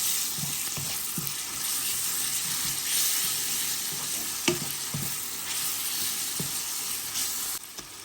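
Onion and garlic paste sizzle and fry in a pan, a steady close hiss with occasional stirring scrapes and clinks, no one talking.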